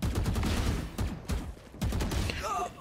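Bursts of rapid gunfire in the tactical shooter Valorant, loud and dense, with several sustained volleys broken by short gaps.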